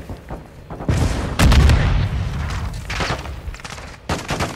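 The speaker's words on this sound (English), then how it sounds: "Grenade, what the heck was that?" A Call of Duty: Modern Warfare 2 grenade bursts with a loud, booming thud amid scattered gunshots, followed by further rattling shots and rumbling echoes.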